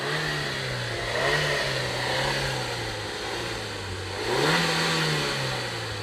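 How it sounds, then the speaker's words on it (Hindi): The engine of a Maruti Suzuki Swift, three years old, hums steadily and then revs up twice with a rising, mid-pitched note, each rev climbing and falling back to idle. "अब गाड़ी का थोड़ा रेस दे"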